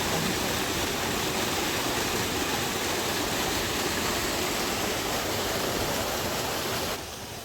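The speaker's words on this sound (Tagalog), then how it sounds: "At puntaan natin yung Taginis Falls." Taginis Falls pours with heavy water, a loud, steady, broadband roar that continues unbroken until it drops slightly at the end, with no voices.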